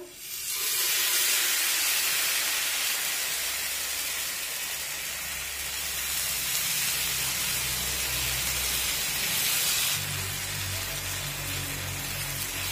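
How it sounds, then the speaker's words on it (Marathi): Pearl millet batter sizzles on a hot oiled griddle, a steady dense hiss that holds for about twelve seconds, close and loud with no talk over it, shifting slightly in tone near the end. "आता तव्यावर तेल पसरून झालं की हे बॅटर पळीने बुडापासून असं ढवळून घ्यायचं आणि तव्यावर सोडायचं"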